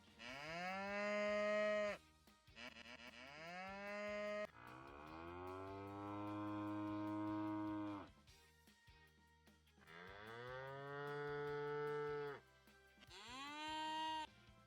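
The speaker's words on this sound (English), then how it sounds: "And look, we're gonna play sound effect. Cow?" Repeated long cow moos used as a sound effect in a self-made RPG, five drawn-out bellowing calls in a row with short gaps between them, loud and close with no talk over them.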